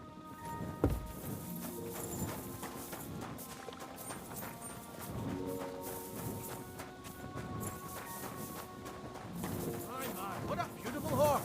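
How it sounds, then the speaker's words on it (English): Horse hooves clip-clop in a steady walking rhythm in Kingdom Come Deliverance II, close and moderately loud, under people talking and background music. "What a beautiful horse!"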